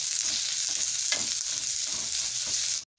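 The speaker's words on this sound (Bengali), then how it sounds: "পেঁয়াজটা বন্ধুরা আমি একদম লাল করে ভাজবো না, একটু মজিয়ে নিচ্ছি।" Onions frying gently in a pan, softening rather than browning, give a steady close sizzle with occasional stirring scrapes, continuous and alone until it cuts off abruptly near the end.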